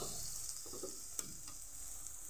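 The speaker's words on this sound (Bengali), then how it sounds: "সুন্দরভাবে পেঁয়াজটা ভাজা হয়ে গেছে।" Onion frying in a pan for a loitta shutki (dried Bombay duck) dish, a steady soft sizzle throughout with a few faint stirring scrapes, close and even.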